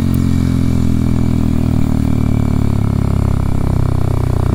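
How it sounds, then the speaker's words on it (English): Loud, steady exhaust rumble from a 2023 Kawasaki KLX 230SM motorcycle while riding on the road, engine note rising slightly as it pulls along, close and continuous with no talking. "get a little bit of exhaust clips on the road"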